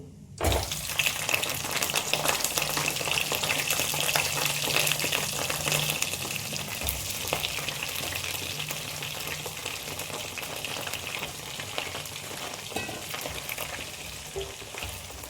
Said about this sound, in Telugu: జీలకర్ర అయితే వేయండి ఫ్రెండ్స్ చూద్దామా వంకాయలు వేసుకుందాం ఇప్పుడు